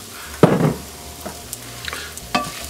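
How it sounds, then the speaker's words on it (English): Ingredients being stirred into olive oil in a drying pan for red lentil soup, a few distinct scraping strokes with a loud one early on over a faint sizzle, otherwise quiet. "And stir this in."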